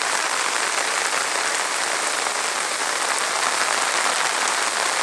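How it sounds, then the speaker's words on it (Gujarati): Very heavy rain pours down in a dense, unbroken roar of hissing drops, loud and uniform for the whole stretch with no talking. "કેટલો આજથી ભારે વરસાદ પડી રહ્યો છે તમે જોઈ શકો છો।"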